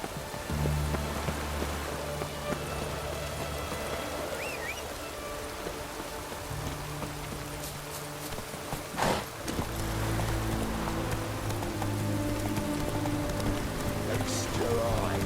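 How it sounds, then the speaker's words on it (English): Steady rain falling in The Witcher 3 video game, a continuous soft hiss of drops with low game ambience underneath and a brief louder thump midway. "Looks like rain."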